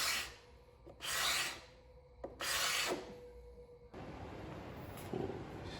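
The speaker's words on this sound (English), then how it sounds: "I then used a good, nice, sharp blade and a new scraper to get rid of all of the existing finish and varnish buildup" A sharp blade scraper drags across an 18th-century Japanese wooden bench, stripping old finish and varnish buildup in two distinct rasping strokes, then a softer, continuous scraping, close and fairly quiet.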